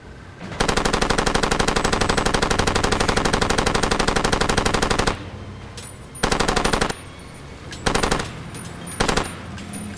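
Automatic gunfire in the video game Far Cry 2: one long sustained burst of rapid shots, then several shorter bursts separated by pauses, loud and close.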